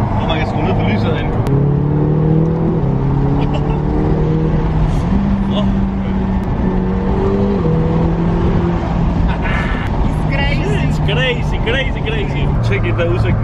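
A car cruising along a motorway, its steady engine drone and road roar running continuously and loudly beneath someone talking throughout.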